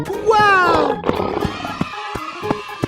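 A lion gives one loud, drawn-out roar up close in a guess-the-door escape room game, followed by sharp knocking effects.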